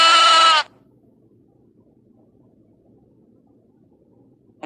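One loud, close sheep bleat rings out at the start and lasts just over half a second, followed by near silence with low background noise.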